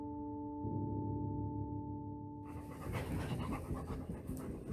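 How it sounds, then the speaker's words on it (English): A puppy pants in quick, breathy bursts close to the microphone, following a steady electronic hum. "Puppy."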